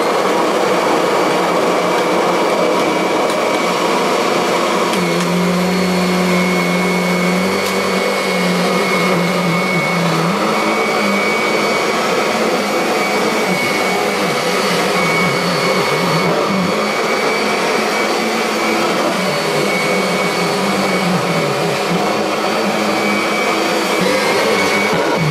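A Kirby Avalir vacuum cleaner running steadily for a long stretch, a loud continuous motor whine and airflow rush, with a brief lower hum partway through and no talk.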